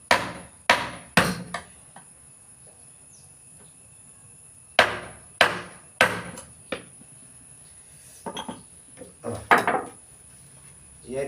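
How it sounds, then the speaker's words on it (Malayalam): A chisel is struck against wood while carving a kavadi frame, giving sharp, close taps in small clusters separated by quiet pauses. "ഉളി കൊണ്ട് കട്ട് ചെയ്യുമ്പോൾ ഒന്നുകൂടി ക്ലിയർ ആവും"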